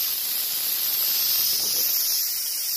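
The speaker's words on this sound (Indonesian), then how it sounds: "Kalau kita putar ini akan membuang angin." Air hisses steadily out of a quick fill valve on an Mk2 as it is turned open, a continuous, fairly loud broadband rush with no talking over it.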